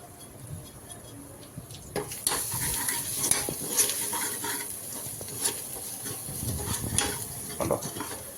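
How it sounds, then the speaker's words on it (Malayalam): A spoon stirs masala into a pan of boiling water for a beef roast, giving steady scraping and soft clinks over a bubbling hiss, close and moderately loud, with no talk. "ആ സമയം നമ്മൾ മസാല ഇട്ട് നന്നായിട്ട് ഇളക്കി കൊടുക്കണം"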